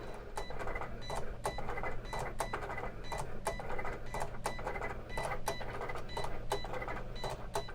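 A Cricut cutting machine scoring a knitting machine punch card, giving a steady mechanical whir with rapid, regular clicking ticks. The close, continuous motor hum runs throughout with no speech.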